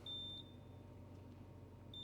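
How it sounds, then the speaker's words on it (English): A tire balancing machine in a tire shop gives two short, clear electronic beeps, one at the start and one at the end, with a low mechanical hum between. "I heard the beep"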